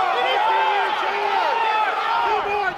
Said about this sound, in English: You hear the crowd yelling